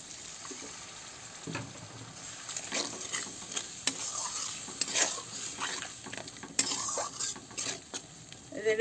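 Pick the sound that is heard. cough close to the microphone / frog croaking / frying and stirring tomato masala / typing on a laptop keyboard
frying and stirring tomato masala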